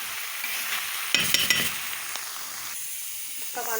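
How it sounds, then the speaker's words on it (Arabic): Food sautés in local Egyptian ghee (samna baladi) in a pot, a soft continuous sizzle broken by bursts of louder scraping and clattering as a utensil stirs, close and without speech. "بس انا بحب اشوحه كده في السمنه، دي سمنه بلدي طبعا"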